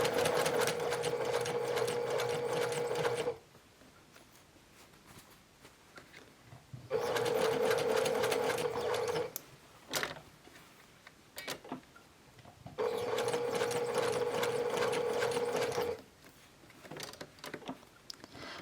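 A sewing machine stitches fabric for a round drawstring bag in three long, steady runs of fast needle hum, separated by quieter pauses with small clicks and handling.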